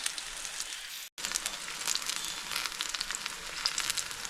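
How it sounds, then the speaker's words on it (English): Saltfish fritters frying in hot oil, a steady dense crackling sizzle that runs on without pause apart from one brief cut, fairly close and alone. "Alright, so just gonna allow these to fry."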